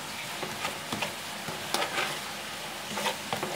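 Battered mairo fish fries in a pan under a steady sizzle, with a utensil scraping and tapping at irregular intervals as the pieces are stirred, close up and without speech.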